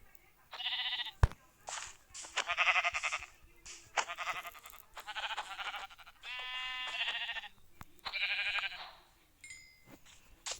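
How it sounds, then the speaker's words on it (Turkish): Sheep in a video game bleat repeatedly in loud, close calls, about eight bleats in a row separated by short pauses and a few sharp clicks. "Çok güzel bir koyun buldum."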